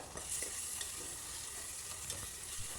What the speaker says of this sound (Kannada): ಅದನ್ನು ಹಾಕಿ ಸ್ವಲ್ಪ ಫ್ರೈ ಮಾಡ್ಕೋಬೇಕು